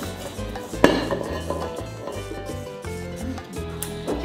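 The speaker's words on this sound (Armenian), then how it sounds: "Հիմա խառնեմ, տամ միքսերը հունցի, մի փոքր էլ ես կհունցեմ ու կանցնենք առաջ։" A spoon stirs Georgian puri bread dough of flour, water and yeast in a bowl, giving irregular scraping and clinking knocks with one sharper clatter near the start, set against a steady low background hum.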